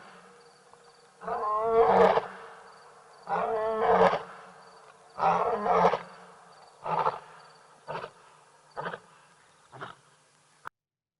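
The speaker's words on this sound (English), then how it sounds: "This was a lioness at Tembe." A lioness at Tembe roars in a series of deep, rhythmic grunting calls, the first few long and strong, then shorter and fading, heard at moderate distance over faint insect hum.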